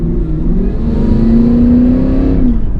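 2024 Cadillac Escalade V engine under heavy throttle with its exhaust set to a muted mode, a steady rising drone that swells and holds for a couple of seconds before easing off, heard from inside the cabin.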